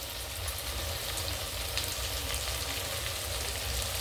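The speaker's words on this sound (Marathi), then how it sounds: "तेलात चांगलं परतून घेऊया" Spices with red chilli powder, onion masala and salt frying in oil for masoor bhat, a steady close hiss of sizzling that stays even and continuous throughout.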